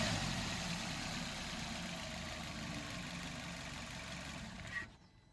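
A 2018 Maruti Dzire ZXI car engine idles up close in a steady, even hum, then cuts off just before the end.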